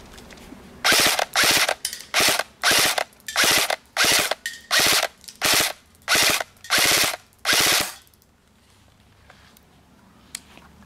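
G&P airsoft gun with a silencer fitted firing full auto: about ten short, evenly spaced mechanical bursts of rapid clattering, loud and close, then quiet.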